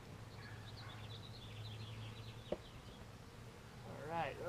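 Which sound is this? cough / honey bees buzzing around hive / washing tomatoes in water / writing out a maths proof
honey bees buzzing around hive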